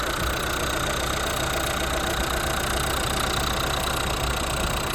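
A Renault Megane engine idles with the bonnet open, a steady, even mechanical hum close up that carries on unchanged with no speech.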